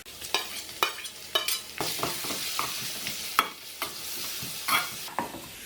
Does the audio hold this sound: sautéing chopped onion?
yes